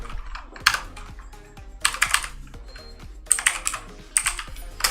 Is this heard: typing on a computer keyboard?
yes